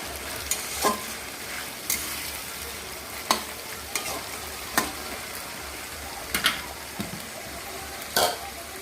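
Chilli chicken with capsicum, tomato, chopped onion, whole garam masala and cumin frying in a pan: continuous soft sizzle broken by sharp, irregular spatula scrapes and clacks at close range.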